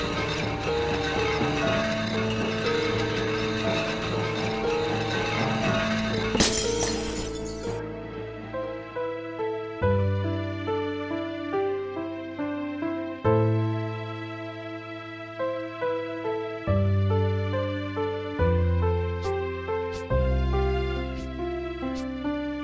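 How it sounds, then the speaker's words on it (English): A burst of shattering glass from a video game greenhouse cuts through a busy musical passage, followed by plucked, bell-like notes and a few sharp tinkling accents. "Pieces of broken glass."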